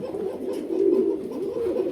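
A pair of pigeons at a Bangladeshi breeding farm, a Parvin female and a Satin male, coo low and steadily in a continuous close murmur, with no voices over it.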